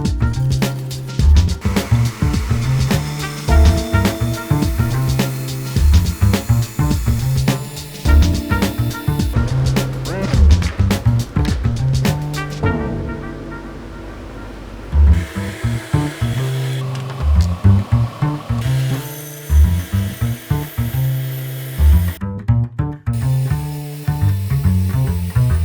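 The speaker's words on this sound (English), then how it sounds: "cutting straight lines on the bandsaw is pretty difficult" A bandsaw cutting straight lines in wood, heard as repeated bursts of loud whirring and rasping that start and stop in short runs, with a couple of brief pauses and a louder final stretch.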